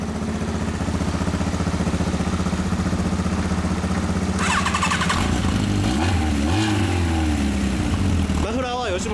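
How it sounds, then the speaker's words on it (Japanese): A Yamaha XJR1200 motorcycle fitted with a Yoshimura muffler idles with a steady low rumble, then revs up several times, the pitch rising and falling, close by with people talking over it. "車種は XJR の1200です。 XJR1200。 エンジン音聞かせてもらっていいですか。"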